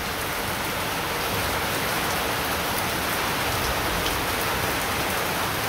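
Steady, heavy rain falls throughout on a rainy day, a dense, even hiss of drops striking nearby surfaces, with no voices and no thunder.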